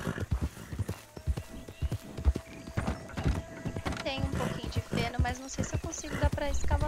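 Horse hooves clip-clop in the Red Dead Redemption video game, a steady close trot with a whinny, under ongoing game sounds and someone talking.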